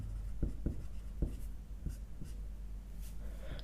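Chalk or marker strokes on a board during a maths lesson, a few sharp taps and short scratchy marks spaced irregularly against a steady room hum.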